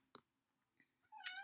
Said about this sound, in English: excuse the cat